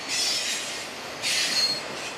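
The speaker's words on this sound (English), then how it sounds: "Full train of foreign cars." A freight train loaded with foreign-made cars, including Hondas, rolls past as its wheels squeal loudly. The hiss and screech rise again partway through, with no one speaking over it.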